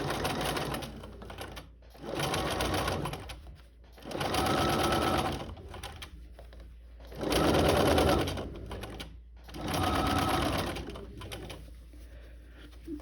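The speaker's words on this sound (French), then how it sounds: "je vais pouvoir venir piquer comme ça à l'intérieur" Domestic sewing machine stitching a garment seam from the inside, running in four or five steady bursts of a few seconds each with short pauses between, close and clear.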